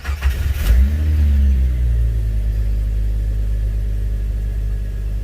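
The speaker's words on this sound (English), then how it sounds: "I'm going to go ahead and start the car and hopefully it stays on." A 1999 Jeep Wrangler TJ engine cranks briefly, catches with a rising rev, then drops into a steady low idle rumble, close and loud with no talking.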